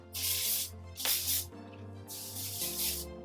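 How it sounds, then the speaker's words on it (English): Fat Boy texture spray hisses from an aerosol can through hair in three bursts, two long and one short, each close and loud against a low steady background hum. "I'm going to grab my Fat Boy texture spray and just spray it all throughout her hair."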